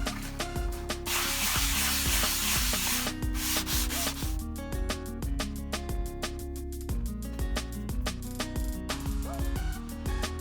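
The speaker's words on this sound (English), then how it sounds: "Finishing sanding with a block of fine grit sandpaper." Wood for a key hanger being hand-finished with a block of fine-grit sandpaper: steady rasping strokes close up, a long continuous rub followed by a run of quicker back-and-forth scrubs, with no voices.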